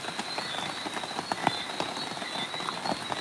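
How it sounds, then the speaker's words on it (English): Steady rain falls with a soft constant hiss while frogs croak in short irregular bursts nearby, a thin high whine running underneath, calm and moderately quiet with no voices. "Here's the rain, refreshed. You can breathe deep and listen to the rain"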